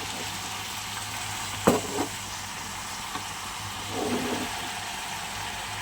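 Potatoes and spinach fry in a pan with a steady, moderate sizzling hiss, broken by a sharp knock and a brief stirring rustle near the middle, and no talking.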